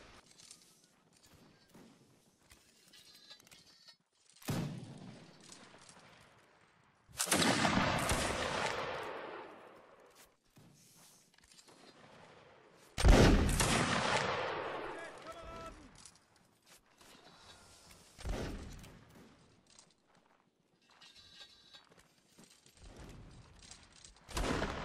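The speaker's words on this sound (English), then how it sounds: "Continue to fire at the guys." Musket volleys in the Mount and Blade: Napoleonic Wars video game, with several loud, crackling bursts of gunfire at irregular intervals across a line battle, separated by quieter stretches with scattered shots and footsteps.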